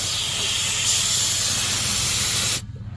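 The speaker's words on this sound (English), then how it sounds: "I'm gonna release all the air out of the system" Compressed air blasts out of a purge valve on a semi truck air dryer, a loud steady hiss that swells slightly after a second and then cuts off abruptly near the end.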